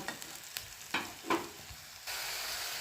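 Ground coriander, cumin and meat masala hit hot oil in a pan, crackling in a few short bursts, then settling into a steady, soft sizzle; close and fairly quiet, with no talk.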